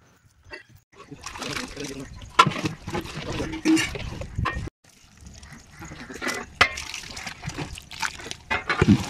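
Water splashes and trickles in irregular bursts as it is poured into masala in a pot for wedding-style mutton kurma, with voices talking over the pouring.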